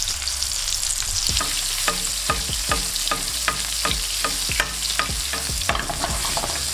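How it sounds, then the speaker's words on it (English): Lamb chops sear in a hot pan with a loud, constant sizzle, punctuated by repeated scraping and tapping of a utensil against the pan. "cook the next batch of your lamb chops. Beautiful sear again, amazing."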